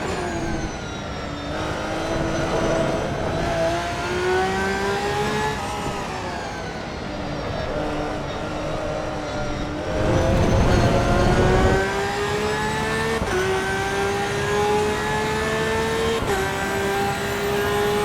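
A race car engine in the game Assetto Corsa EVO revs up and down through the gears, a loud, steady whine rising in pitch and dropping at each shift, with a harsher burst of roar midway, no voices.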